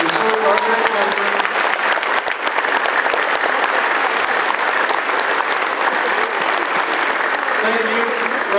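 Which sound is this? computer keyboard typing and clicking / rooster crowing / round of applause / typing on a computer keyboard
round of applause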